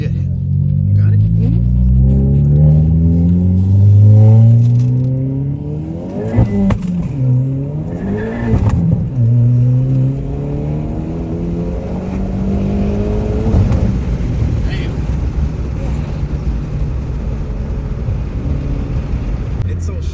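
A car accelerates hard up close, the engine note climbing in pitch and then dropping sharply at two gear changes before it settles into a loud, steady drone.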